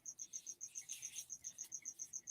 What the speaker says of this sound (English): someone's complaining about your crickets there, Will